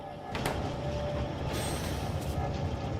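A train rolls along in the game Factorio Space Age, a steady, close rumble of wheels on rails with a few brief higher squeals and clatters above it.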